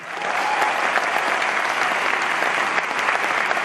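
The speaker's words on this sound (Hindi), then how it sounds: "उसके लिए जोरदार ताली बजा सकते हैं।" Loud audience applause during a spiritual talk, a thick steady roar of many hands clapping that swells quickly and holds at full strength to the end.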